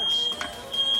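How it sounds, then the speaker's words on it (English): A kitchen smoke alarm goes off from cooking heat while gumbo is being made, sounding a steady, loud, high electronic tone with a short break in the middle, and brief noise passes under it. "We are setting off fire alarm."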